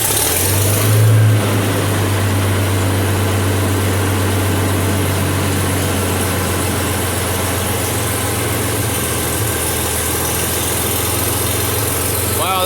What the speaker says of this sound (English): You could actually hear the engine bog down when it started picking up the oil.